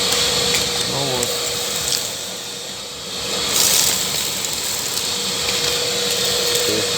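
A Makita VC3011L construction vacuum cleaner runs steadily close by, a constant airy whine and hiss with a brief dip and swell in loudness as it sucks up debris.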